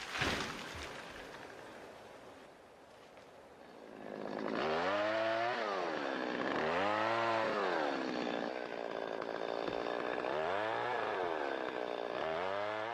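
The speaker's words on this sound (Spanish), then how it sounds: "El trabajo sigue siendo duro, aun cuando hoy ruja la motosierra donde antaño resonaban por el bosque los golpes rítmicos de las hachas" Chainsaw roaring in a snowy forest, starting faint and distant, then surging loud from about four seconds with repeated rising and falling revs as it cuts, running steadily to the end with no talk.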